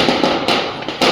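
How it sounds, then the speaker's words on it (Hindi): Several sharp bangs go off in quick succession, loud and close, like small firecrackers cracking one after another, leftover Diwali firecrackers thrown from behind. "वो पीछे से पटाखे फेंक रहा है, देखो"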